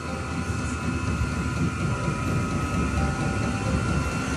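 An 8 kW 12-volt diesel air heater starting up, a steady mechanical roar with a droning whine of fan and burner, constant and close, with no talking.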